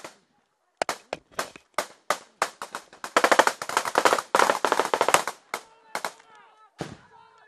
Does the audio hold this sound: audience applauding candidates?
no